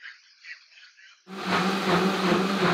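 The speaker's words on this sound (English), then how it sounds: "this is what it would sound like if a blender was going on" A blender roars loudly and steadily for about the last second and a half, starting abruptly after a stretch of muffled voices, as a test of a Poly Voyager noise-cancelling wireless headset microphone.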